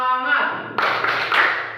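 A classroom group does a 'tepuk semangat' clapping chant. A sung or chanted voice opens, then a few crisp, close claps land in rhythm with voices over them.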